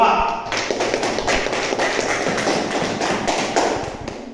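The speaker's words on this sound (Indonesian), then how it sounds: "Silakan tepuk tangan untuk kelompok 2." A class breaks into applause for group 2, and a dense steady clapping from many hands fills the room for several seconds. Murmured voices sit under it.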